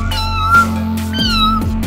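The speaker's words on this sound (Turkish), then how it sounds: "Kedi değil mi?" A cat meows in a toy aisle, two drawn-out calls close by, with a steady low hum of store background and no talk.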